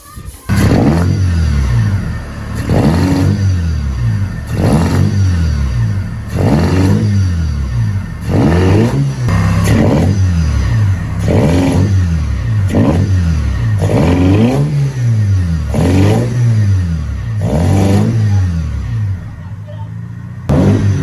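A Toyota 4AGE Blacktop engine fitted with velocity stacks, revved again and again in a steady rhythm, about nine loud rising and falling sweeps of throttle, close and continuous.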